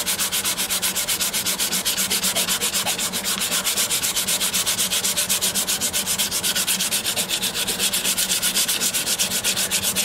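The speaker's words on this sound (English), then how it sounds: "I've given it a real good going over with the sandpaper" Sandpaper is rubbed by hand over the wooden body of a custom 12-string dreadnought guitar in steady, rapid back-and-forth strokes, with an even, continuous scratchy rhythm that stays loud and close throughout and has no talking.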